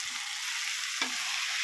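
Fish frying in oil in a pan, with a loud, steady hiss of sizzling throughout and a brief sharper crackle and stir partway through, heard close and without talk.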